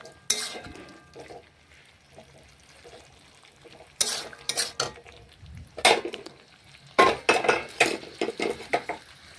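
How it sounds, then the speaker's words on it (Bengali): A jackfruit and prawn curry being stirred in a kadai, metal utensil clattering and scraping against the pan in irregular bursts, loud and close, with quieter gaps between strokes. "নাড়াচাড়া করে দেখুন কড়ার মধ্যে জলটা একটু শুকিয়ে নিচ্ছি"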